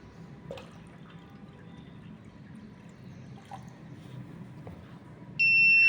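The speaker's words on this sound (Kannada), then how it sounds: "ಅತಿ ಹೆಚ್ಚು ನೀರಾದ ತಕ್ಷಣ ಬಜರ್ ಆಗಿ ಮತ್ತು ಇದು ರೆಡ್ ಲೈಟ್ ಕೊಡುತ್ತದೆ." Water drips faintly into a model flood water-level warning device, then its buzzer alarm bursts on loud and steady as a sustained high electronic tone at the end.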